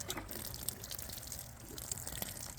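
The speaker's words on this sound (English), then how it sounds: "we grabbed the water that we had saved from the last time it rained, and we're just gonna water in our seedlings now" Saved rainwater poured over herb seedlings in outdoor garden bags, a steady soft wash of running water with faint splashy spikes, close and continuous with no talking.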